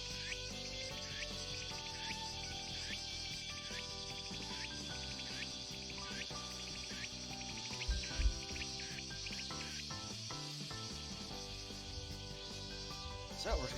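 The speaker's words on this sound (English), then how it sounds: "Alright, we get like the cicadas immediately." Cicadas drone in a summer-morning scene from the visual novel Grisaia, a dense, continuous high buzzing chorus layered with steady background music throughout, loud and unbroken.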